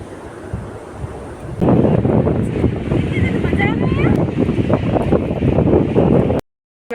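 Sea waves and wind at a village beach around sunset give a steady, loud rushing wash that swells midway, with wind buffeting the microphone and a few faint bird-like calls, then cuts off abruptly near the end.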